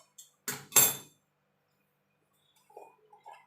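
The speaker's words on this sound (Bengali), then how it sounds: "আর একটা কড়াই বসিয়ে দেবো।" A wok-style kadai set down on the stove burner in a home kitchen, two quick metallic clinks and clatters close by, then quiet with a few faint later taps.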